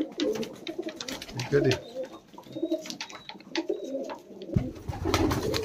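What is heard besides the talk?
Punjabi Malwai pigeons cooing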